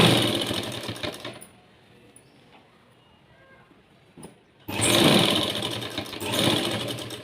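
A sewing machine runs in loud bursts while stitching piping onto a blouse, with a quiet pause in the middle before the motor picks up again.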